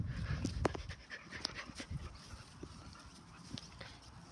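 Dog panting quickly and close by, rapid breathy huffs with some clicking and shuffling, fairly faint overall with no voices.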